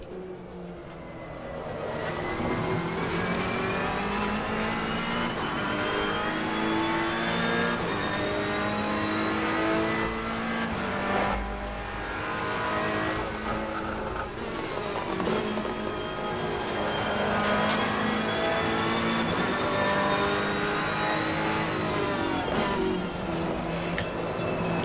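A GT race car in Assetto Corsa Competizione on the Brands Hatch circuit revs loudly and continuously, with the engine pitch climbing through gear changes and dipping between them, heard up close with no talking.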